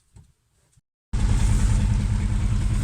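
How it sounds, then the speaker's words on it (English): A car engine fires up after a thermostat replacement and settles into a loud, steady running drone right after a few faint clicks and a brief silence. "Then it's time to start the engine and check for leaks."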